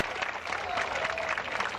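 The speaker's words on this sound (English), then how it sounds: "You hear the crowd." Baseball crowd at a Big Ten game between Ohio State and Minnesota, a moderate, steady murmur of applause and cheering that sounds somewhat distant, with a faint tonal whistle or call rising briefly in the middle.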